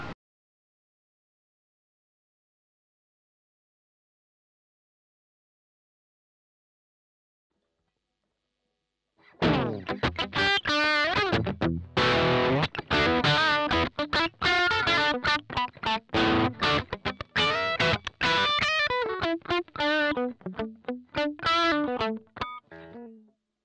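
Silence for about nine seconds, then a loud distorted electric guitar lead, an OLP guitar through a VOX Amplug on its Lead setting, plays busy, sustained phrases with heavy effects until the end.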